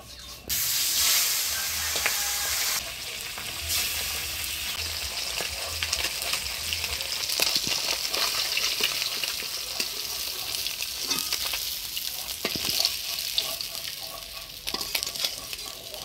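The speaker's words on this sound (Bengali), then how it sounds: "এবার পাবদা মাছগুলোও ভাজিয়ে নেব।" Pabda fish fry in hot oil with a steady, loud sizzle and crackle that runs the whole time, with occasional stirring scrapes and no voices.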